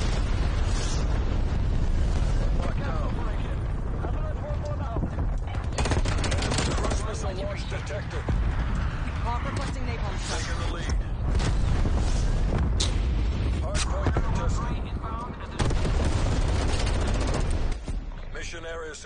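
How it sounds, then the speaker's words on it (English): Napalm strike explosions in the video game Call of Duty Cold War, dense repeated blasts and gunfire-like bursts that roll on loudly for the whole stretch, with heavy low rumble and sharp cracks. "Use my napalm strike right now?"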